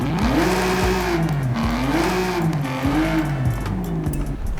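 A 7.7 liter V12 engine in the Forza Horizon 5 video game, in a Dodge Magnum SRT8, runs loud and close, its revs rising and falling in smooth, repeated sweeps without pause.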